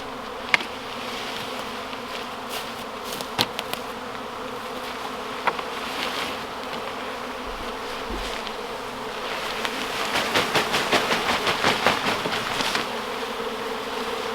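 Honey bees swarming in a tree, caught from about twenty feet up, make a steady dense buzz throughout, swelling louder near the end, with a few sharp nearby clicks and knocks.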